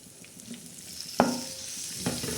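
Chopped onion, green chili and tomato sizzling in hot oil for a tomato chutney, a steady close-up fry with a sharp crackling burst partway through and another toward the end, no voices.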